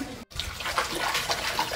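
Tap water running steadily into a basin during a child's bath, with a brief cut near the start, then a continuous splashing rush of water that stays close and fairly loud.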